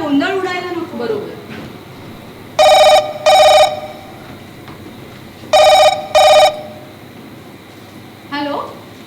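A telephone rings in two paired bursts, each a double trill of loud, bright electronic tones, with a voice talking before and after the rings.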